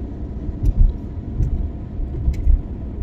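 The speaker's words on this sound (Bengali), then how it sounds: "চলে এসেছি আমি আবার ড্রাইভিং সিটে, যাচ্ছি আবার আমরা।" An Alto 800 car driving on a rough road between Puri and Kolkata, heard from inside as a steady low rumble with bumps and jolts, fairly loud and close.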